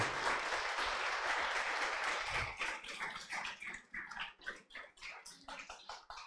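An audience at a data innovation event applauds, a dense wash of clapping that thins over a few seconds into separate, scattered claps as it fades.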